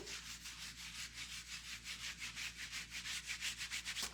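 A pad rubbed back and forth over a wrinkled surface during a soft furniture makeover, giving steady rhythmic scrubbing strokes, close and continuous, with no voices.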